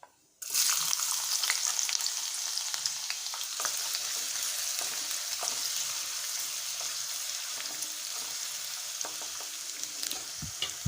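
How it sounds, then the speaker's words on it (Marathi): Onion hits hot oil with curry leaves with a sudden burst of sizzling that settles into a steady, close crackle and hiss, with occasional stirring clicks. "कढीपत्ता घातल्यानंतर यात कांदा घालायचा आहे"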